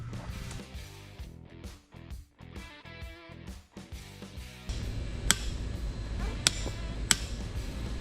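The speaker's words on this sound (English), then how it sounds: "So let's give it a good old torquing." A torque wrench tightens a Jeep Wrangler 392 steering gearbox to 220 foot-pounds, giving a few sharp, separate metallic clicks near the end over steady background noise, after a stretch of tonal background sound.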